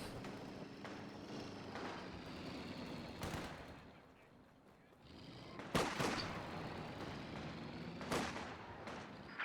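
Gunfire and artillery in a real-time strategy game, with scattered sharp shots and a few heavy booming impacts over a busy battle rumble, fairly faint, with someone commentating over it.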